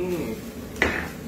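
A wok clatters with metal utensils while a spicy seafood basil stir-fry of squid and shrimp cooks, with a brief clanking hit and a short scrape close by over a steady background hiss.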